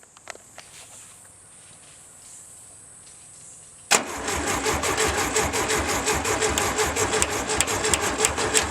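An old VW engine that sat for ten years is quiet at first with a few faint clicks, then abruptly cranks and fires, running loudly and roughly with a rapid pulsing beat through to the end.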